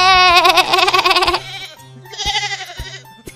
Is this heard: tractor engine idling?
no